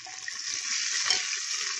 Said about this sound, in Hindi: प्याज को भी फ्राई कर लेंगे। अदरक भी डाल दिया हमने